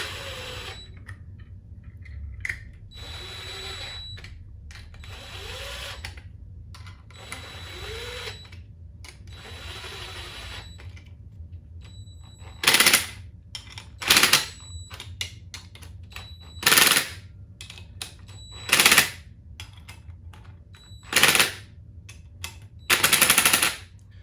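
Power tool driving bolts on a Leslie RS3L rotating speaker cabinet during a rebuild, about six short loud bursts of rapid rattling after a quieter stretch of softer handling noises.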